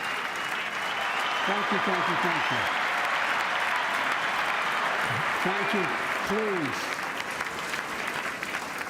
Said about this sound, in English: I hit the applause button